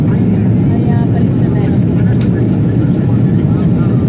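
Constant loud roar of jet engines inside a Hawaiian Airlines airliner cabin in flight from Los Angeles to Kahului, Maui, a steady low-heavy rumble with broadband hiss and no breaks.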